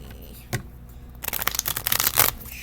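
A stack of SAFMEDS flashcards is shuffled by hand: one sharp snap, then a rapid rippling flutter of cards riffling for over a second, close and crisp.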